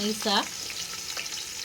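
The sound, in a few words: onions frying in a pan for biryani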